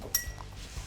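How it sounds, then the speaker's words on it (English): Ice cubes drop into a bourbon cocktail with a single faint, bright clink early on, followed by quiet background rustle. "I'm going to throw in some ice to chill this down"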